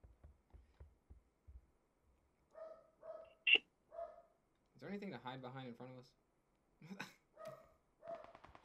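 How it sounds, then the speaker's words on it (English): Dogs in a multiplayer shooter video game bark in a few short, distant yaps, mostly under players talking over voice chat. "The fuck are these dogs barking at?"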